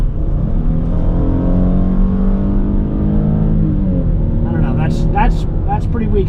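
Inside a 2026 Chrysler Pacifica minivan at full throttle from about 30 mph, a loud steady engine drone rises in pitch, and a voice talks over it near the end.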